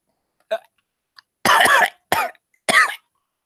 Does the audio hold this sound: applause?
no